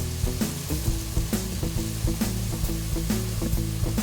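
Mushrooms cooking in a pot with wine nearby, giving off a dense, continuous sizzle with rhythmic stirring knocks and spoon clatter, loud and close.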